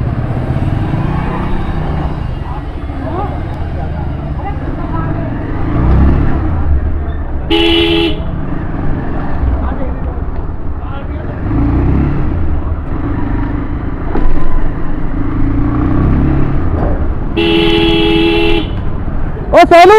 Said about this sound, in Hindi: ट्रैफिक लग रहा गली के अंदर।